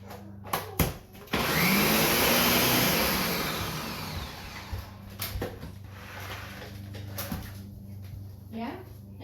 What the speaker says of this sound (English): run the blender again